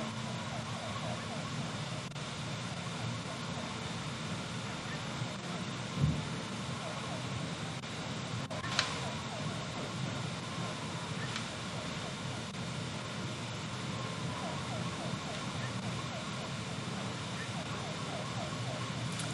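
Police car sirens wail steadily in the Tasty Planet video game, blended into a busy, continuous bed of game sounds at moderate loudness.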